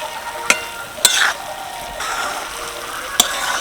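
Laddu mixture being stirred in sugar syrup in a pan, with the heat off. There is a soft continuous scraping and sizzling, plus a few sharp spoon clinks against the pan at close range, and no talking.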